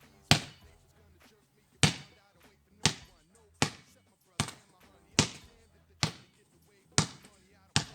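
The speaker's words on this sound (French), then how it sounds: "Vous allez faire rebondir un ballon au sol et passer l'autre par le haut." Basketballs bouncing on a gym floor during a two-ball dribbling drill, sharp thumps landing in a steady rhythm about once a second, loud and close, with a coach talking between them.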